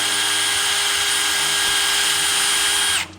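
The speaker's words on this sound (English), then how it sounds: "so I'm gonna use the old drill trick" A power drill spins brake sliders held in its chuck, whirring at a steady high pitch for about three seconds, close and loud, then winds down abruptly.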